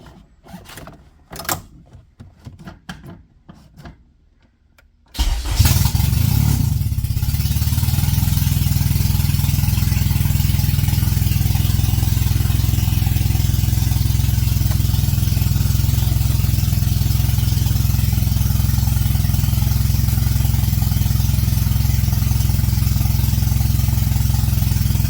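Some clattering and clicks, then a car engine in a K-swap AWD EG coupe build cranks and catches, settling into a steady, loud, rough, tractor-like idle that runs on without a break.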